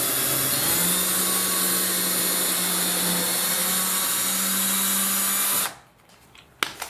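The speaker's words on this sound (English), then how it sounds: "Next we'll make the pilot hole. Make sure that your drill is straight" Power drill boring a small pilot hole for a bifold door knob, a steady loud whine running continuously for over five seconds before stopping abruptly, followed by a few faint clicks and handling sounds.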